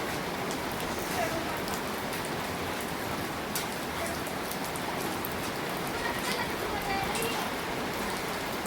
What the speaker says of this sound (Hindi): तेज़ बारिश आई है, राम जी खूब बरस रहा है तेज़ तेज़